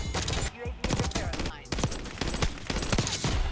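The AEK-973 rifle in Black Ops 6 fires several rapid bursts, sharp close cracks arriving in quick clusters with brief gaps between them.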